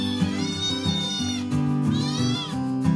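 Cat meowing twice, close and clear, each call a drawn-out rising-and-falling wail over a layer of steady background tones.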